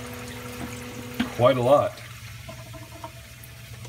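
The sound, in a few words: aquarium auto top-off pump adding water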